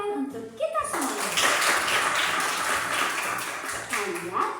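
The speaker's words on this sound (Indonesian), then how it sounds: "Beri tepuk tangan untuk kita semua." A short burst of clapping in a children's lesson on Pancasila, brisk hand claps rising after a voice and fading as speech returns, with voices heard around it.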